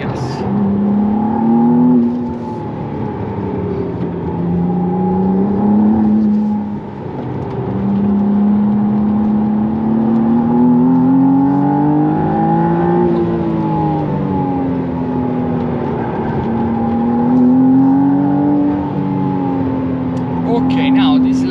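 A McLaren Artura sports car on a track hums with engine drone that climbs and falls in pitch as it accelerates and eases off, heard from inside the car, steady and loud.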